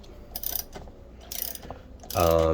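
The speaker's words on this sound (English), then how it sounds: "Ratchet. And start tightening it." A Delta Q3 40-650 type 2 scroll saw is worked on with a hand ratchet, giving several short bursts of clicking pawl strokes close by, ending in a louder, fuller final burst.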